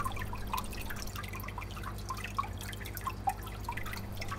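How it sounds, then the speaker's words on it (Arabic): An aquarium wave maker keeps the tank's water surface constantly churning, producing a steady close-up wash of trickling, dripping and splashing water with no voices. "في سطح المية يكون كده، المية بتتقلب باستمرار"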